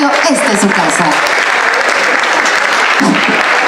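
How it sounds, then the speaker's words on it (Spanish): Loud, dense audience applause welcoming speakers onto the stage at a community debate event in Azcapotzalco, continuous close clapping from a large crowd with some voices underneath. "Vamos a recibirlos con un fuerte aplauso."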